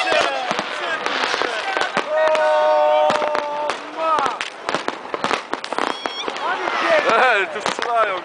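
New Year's fireworks crack and bang repeatedly at a mountain gathering, loud sharp pops scattered through the clip while people shout and talk excitedly over them.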